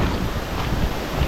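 Strong wind blows in the countryside as a dark sky gathers ahead of rain, a steady broadband roar buffeting the microphone with no voices.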